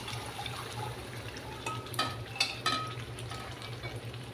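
Sizzling and frying of a shahi mutton masala gravy in a pan as water is poured in, a steady close hiss with a few brief splashy bursts partway through.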